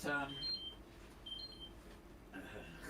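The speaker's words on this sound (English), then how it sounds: "I got an alarm going off, which I need to cancel" Short electronic beeps sound in a few separate bursts over quiet room tone, fairly faint, with a brief pause between them.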